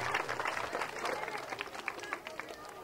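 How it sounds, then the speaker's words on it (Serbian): An outdoor audience at a village sports olympiad applauds a folk ensemble, producing a dense, fairly faint patter of clapping from a crowd that carries on steadily throughout. "još jedan aplauz za članove kulturno-umetničkog društva Rudna Glava za njihov nastup"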